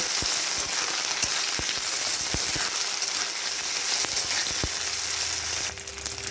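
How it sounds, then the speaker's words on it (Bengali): Green chillies, garlic and ginger fry together in a pan for a spinach chicken dish, giving a steady, loud broadband sizzle with scattered crackles and pops throughout, easing slightly near the end; no one speaks. "কাঁচা লঙ্কা রসুন আর আদা সব একবারে দিয়ে একটু ভালো করে ভেজে নেব"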